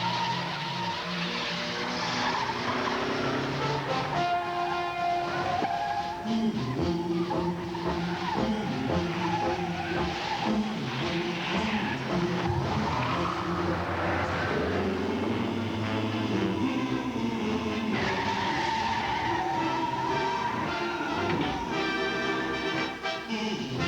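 A 1986 Chrysler LeBaron GTS and a BMW 528e race hard, with loud tire squeal and skidding over roaring engines that carry on continuously, with no talk.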